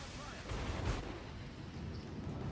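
Battleship main guns fire a salvo in World of Warships as a heavy, booming rumble that swells briefly near the middle of the burst, set against steady low battle noise throughout.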